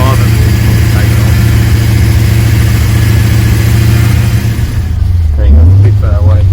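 A rebuilt VT Clubsport engine runs at its first start-up with a loud, steady, close low drone that briefly dips and swells in pitch near the end as if blipped.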